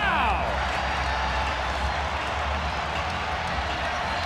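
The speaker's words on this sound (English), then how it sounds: "Listen to this crowd." A basketball arena crowd roars after a long three-quarter-court shot in an NBA game, a loud, sustained wash of cheering and noise that fills the space throughout.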